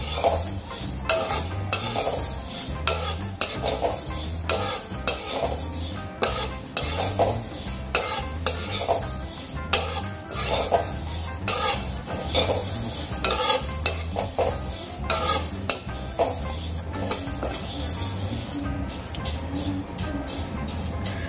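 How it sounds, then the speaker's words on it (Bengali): Biulir (urad) dal fries in a pan, a continuous sizzle broken by frequent stirring scrapes and utensil clinks against the metal, close and busy throughout, without voices. "ডালগুলো আমি খুব ভালো করে ভেজে নেব।"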